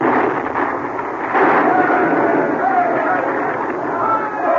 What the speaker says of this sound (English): The explosion rocked the earth